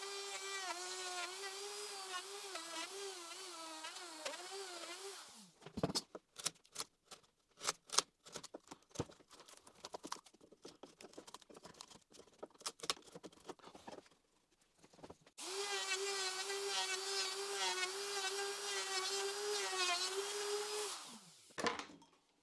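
A router works wood along a guide bushing, giving a steady high motor whine that cuts out into a stretch of irregular clattering knocks before the whine returns and runs down again, loud and close with no voices.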